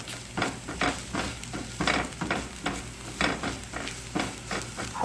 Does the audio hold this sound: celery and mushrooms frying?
yes